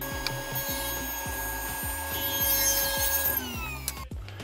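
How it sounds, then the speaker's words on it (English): A saw cuts a bevel along a wooden board for a 3D wooden Christmas tree, with a steady series of rhythmic strokes and a high whine running under them, close up, ending abruptly. "So I'm going to run this through the saw at 3/4 inches."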